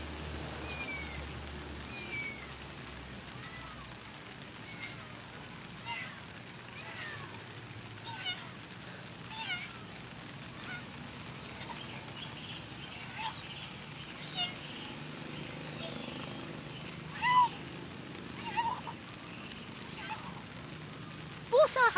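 A cat meows repeatedly, short cries spaced every second or two over a quiet background, growing a little louder near the end.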